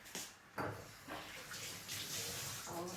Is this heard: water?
yes